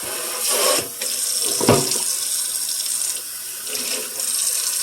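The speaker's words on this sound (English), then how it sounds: "Rinse all that soap." A kitchen tap runs steadily as soap is rinsed away during cleaning. Loud close water flow splashes into a sink, with brief shifts as the stream hits different surfaces.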